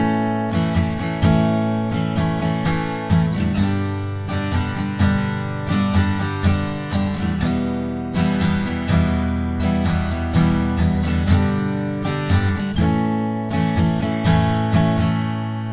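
Acoustic guitar strumming the pre-chorus chords of a song in a down-up pattern, steady bright strokes with ringing chords, close and alone with no talking.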